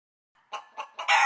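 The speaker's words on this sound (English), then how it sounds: "Cluck, cluck, said the black hen" A black hen clucks three quick times close by, then lets out a louder, longer squawk, with silence before it starts.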